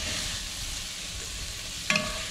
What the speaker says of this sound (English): Just a little bit of browning on the sausage.